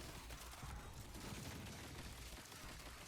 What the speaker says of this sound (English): that just means even more explosions now